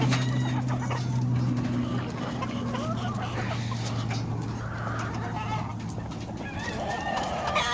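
Several hens in a brood pen cluck and call over a steady low hum, with bird sounds scattered throughout at moderate distance and no talking.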